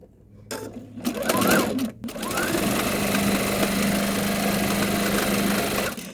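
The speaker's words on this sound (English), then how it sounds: "And I sew just a couple stitches off the edge, just like this." Electric sewing machine stitching fabric scraps together for a quilt block, a steady close whirring run that starts and stops briefly before settling into a long continuous hum.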